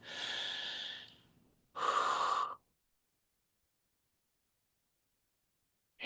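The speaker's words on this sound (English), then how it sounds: "But you can also breathe slowly." Slow, deep breaths taken up close in a quiet room: a long airy inhale that fades, then a shorter, stronger exhale, followed by silence.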